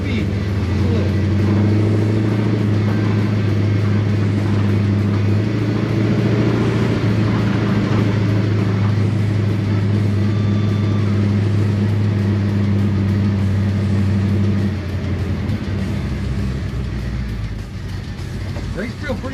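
A 1957 Chevy rolls along and picks up speed, a loud, deep engine drone with a steady low hum throughout, easing off near the end, while people talk quietly inside.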